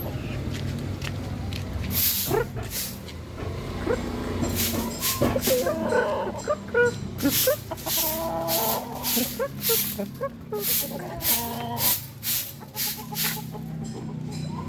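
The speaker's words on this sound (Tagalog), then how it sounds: "Ayan ang manok na panlaban." A fighting cock clucks repeatedly close by in a yard outdoors, with scattered bird and animal noises and no clear speech.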